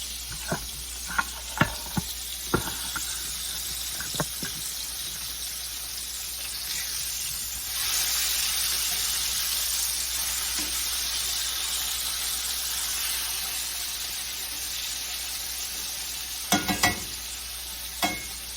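Cubed steak browning in a skillet sizzles with a steady hiss through most of the stretch, broken by sharp scraping clatters of a utensil turning the meat near the start and end.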